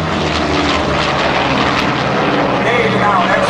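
An F4U Corsair roars loudly through a victory roll at the Fair St. Louis Airshow, its propeller engine droning in a continuous, rough growl while an announcer talks over it.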